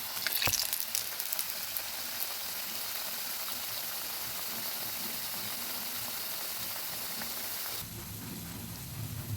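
Maida and raw potato snacks fry in white oil in a small wok, giving a dense, steady sizzling crackle that fills the whole clip. The tone shifts slightly near the end.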